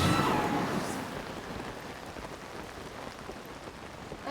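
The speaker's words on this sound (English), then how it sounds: "it is now raining" Steady rain pours down in Zelda: Tears of the Kingdom, a dense, even hiss of falling drops that is loudest at the start and then settles into a constant wash, with no talking.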